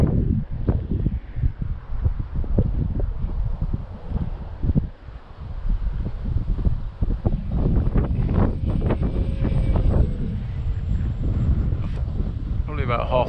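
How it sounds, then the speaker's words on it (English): Strong wind buffeting the microphone outdoors while a model plane flies, a constant heavy rumbling roar with gusty bursts throughout. "Even though it is getting absolutely battered by this wind"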